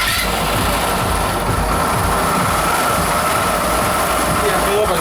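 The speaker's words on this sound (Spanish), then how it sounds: "Prendemos la moto nuevamente." A Honda Elite 125 scooter engine runs at a steady idle with a persistent internal mechanical noise, a loud, even, rapid chugging close by, with a voice speaking over it.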